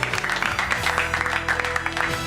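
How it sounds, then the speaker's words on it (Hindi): Applause patters on beneath a continuous background of music or murmur, moderate clapping from a gathered audience. "जोरदार तालियां एक बार हमारे जज साहब के लिए।"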